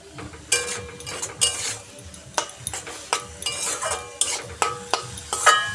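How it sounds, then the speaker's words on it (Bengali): Vegetables fry in a pan with fenugreek seeds in the hot oil, a soft sizzle running under a spoon that scrapes and clinks against the pan in irregular, close stirring strokes. "তারপর সবজিগুলো ছেড়ে দিলাম, একটু নাড়াচাড়া করে নেব।"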